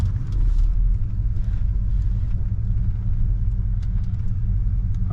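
A 1971 Cadillac Deville's engine idles in a steady, deep low rumble while the car backs up and shifts into gear, a continuous close drone with no speech over it.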